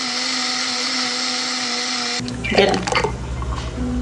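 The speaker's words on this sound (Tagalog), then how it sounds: "At saka ko naman blender." A blender whirs loudly and steadily for about two seconds while blending an apple and carrot smoothie with milk and honey, then shuts off, followed by clinking and rattling noises.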